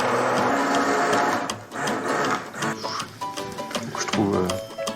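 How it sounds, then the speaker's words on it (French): A blender purées fish and sweet potato soup into a velouté with a loud whirring motor drone that dips and labours briefly, while a voice talks over it. "Je vais commencer à mixer."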